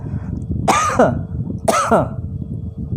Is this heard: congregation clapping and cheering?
no